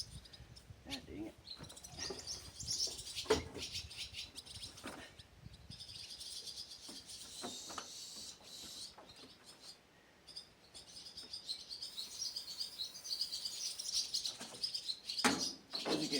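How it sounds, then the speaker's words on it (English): Sparrows or swallows chirp in agitated bursts inside a parked RV that has sat for two years, the faint high calls scattered over soft shuffling and rustling nearby. "As you can hear, the sparrows or the swallows are not happy I'm in here."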